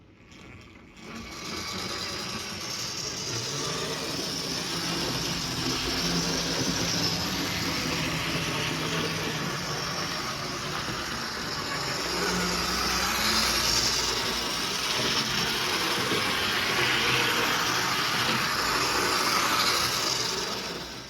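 A Triang Hornby model train fitted with a Silver Seal upgrade motor runs at top speed, a steady close whirring buzz that holds for about twenty seconds with no talking.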